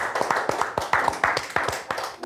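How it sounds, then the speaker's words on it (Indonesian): A small stand-up comedy audience claps in loose, uneven bursts of distinct handclaps, fairly close and moderately loud, with a faint murmur of voices underneath. "tepuk tangan sekali lagi teman-teman"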